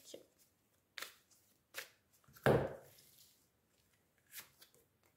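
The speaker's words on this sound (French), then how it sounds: "Hop, je remets les cartes. Je remélange un petit coup." A deck of tarot-style cards is reshuffled by hand in a few short riffling bursts, with one louder, fuller shuffle in the middle and quiet pauses between, close and fairly soft.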